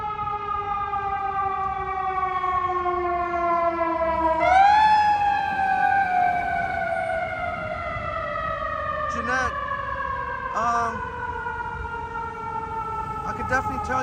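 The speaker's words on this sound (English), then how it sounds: "Another sirens here." Emergency vehicle sirens wail along a Toronto street at night, a steady sustained siren tone that rises and then slowly falls, clearly heard under a man's nearby speech.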